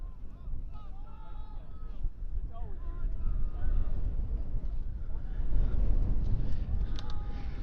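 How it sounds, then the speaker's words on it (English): Steady wind rumbles and buffets the microphone outdoors at a rugby match, with faint distant shouts and whistles carrying across the open field. "It is a windy day"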